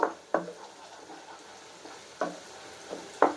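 Onions fry in a clay pot for prawn biryani. A soft sizzle runs underneath while a spoon scrapes and clacks against the pot in a few sharp, irregular strokes.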